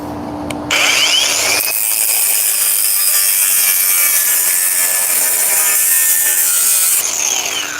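A part for an e-bike is trimmed down with a power tool, giving a loud, continuous grinding, rasping cut that runs steadily for about six seconds, close by and without speech.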